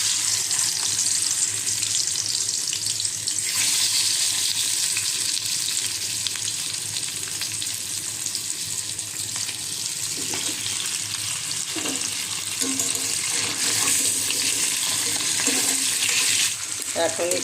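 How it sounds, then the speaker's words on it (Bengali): Fish heads sizzle in hot oil in a wok, a dense, close crackle that stays loud and even, with occasional soft knocks and clatters from stirring. "এখন মাছের মাথাগুলি আমি ভেজে দেব।"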